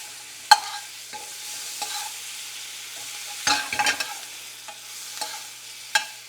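A tablespoon of butter and a small clove of garlic sizzling with charred asparagus in a pan with the heat off, a quiet crackle punctuated by occasional utensil clicks and a brief stirring flurry.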